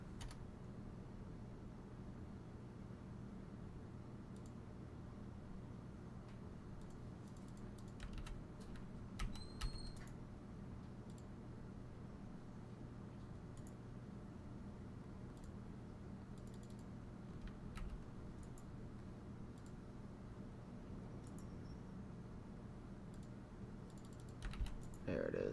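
Continuous typing on a computer keyboard, a steady run of soft key clicks under a low hum for nearly half a minute, with a few sharper taps scattered throughout and no one speaking.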